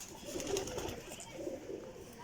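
Champion flying pigeons coo in low, soft, repeated rolling calls, close by and steady, with faint background noise and no speech.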